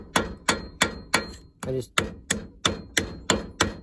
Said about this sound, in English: then I got a copper hammer